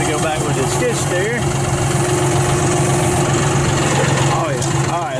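Skid steer diesel engine idling at a steady throb near a shop, loud and continuous with a voice speaking over it.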